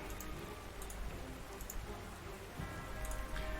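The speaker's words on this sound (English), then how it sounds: "It is raining this turn." Steady rain falling in the WWII strategy game Panzer Corps 2, a continuous even hiss of rainfall with faint drop patter throughout, fairly quiet, with no talking.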